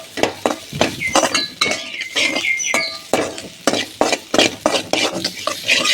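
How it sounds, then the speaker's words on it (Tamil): A spoon stirs and scrapes sweet samosa filling as it roasts to golden in a pan, with repeated close metallic clinks against the pan and a faint sizzle underneath. "நல்லா பொன்னிறமாக வறுத்துக்கணும்"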